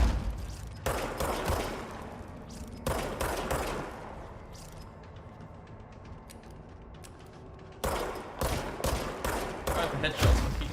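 Bursts of gunfire in the Control video game, dense rapid volleys near the start and again toward the end, with a quieter stretch between.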